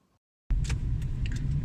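Car engine and road noise from inside a moving car, a steady low rumble starting abruptly after a brief silence, with faint light ticks and rattles on top.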